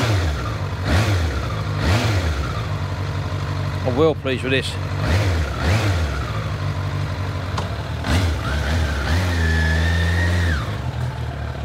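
A 600 motorbike engine with 47,000 miles on it revs up and drops back several times, rising and falling in pitch close by, with someone talking between the revs.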